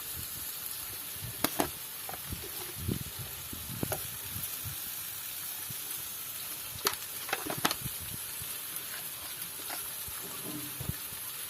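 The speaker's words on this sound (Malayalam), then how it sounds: "ഇനി ഈ ഉള്ളി നന്നായിട്ട് നമുക്കൊന്ന് വഴറ്റിയെടുക്കണം" Onions cooking in a pan for an onion-tomato chutney, with steady faint sizzling and occasional scrapes and clinks as they are stirred.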